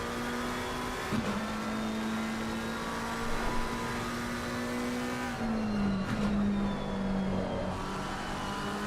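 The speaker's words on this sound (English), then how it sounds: "Heading down back through the gearbox into third gear through Piratella" An RWB race car on the Imola circuit in Assetto Corsa Competizione drones at steady high revs from the onboard view, then drops pitch in stepped downshifts as it brakes into a corner, with faint tire and wind noise.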